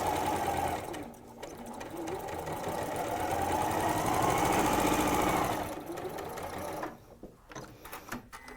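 A sewing machine chain-pieces long quilt fabric strips for a Bargello quilt, running in steady bursts with a dense rapid needle rattle, pausing briefly and restarting before slowing to scattered clicks near the end.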